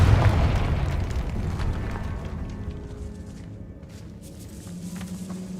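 Spell explosion from a video game, a loud low boom bursting at the start and rumbling down into a lingering roar, with faint crackles and a low hum later.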